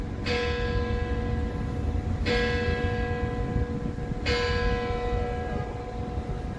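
Church bells ring at 6 p.m. near the Basilica of St. John Lateran in Rome, three resonant strokes about two seconds apart, each with a long humming decay over a steady outdoor background.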